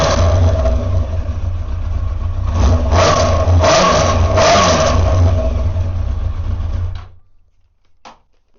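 A 1990s motorbike engine revs loudly and steadily close by for about seven seconds, rising through a couple of throttle blips before cutting off abruptly, followed by near silence and one faint click.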